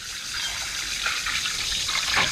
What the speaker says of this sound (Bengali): এখন বাইকের চেনে পানি দিয়ে দিই